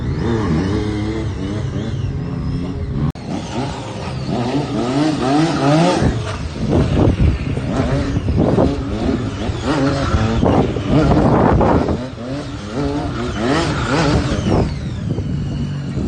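A stunt motorbike at a riding show revs hard and surges forward in rising, falling bursts as it enters a slide at speed, loud and close, with brief squeals near the peaks and no talk.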